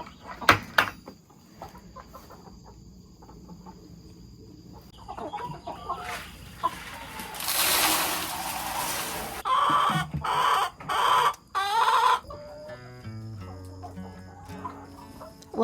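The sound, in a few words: chickens clucking in coop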